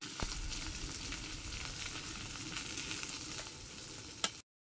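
Neem flowers fry in hot oil, giving a steady, close, dense sizzle that crackles on without a break for several seconds, with a single sharp tap near the end before it cuts off.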